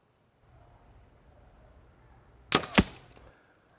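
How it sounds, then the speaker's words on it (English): An arrow shot from a bow using a thumb button release at a 20-yard target: a sharp snap of the release and string followed quickly by a second thwack, after a quiet lead-in. "so you guys can actually see how long it actually takes me to actually shoot an arrow"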